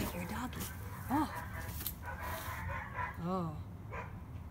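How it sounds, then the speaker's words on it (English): A couple of distant dog barks rise over ongoing indoor talk, faint and spaced a few seconds apart. "Oh, I hear a doggy."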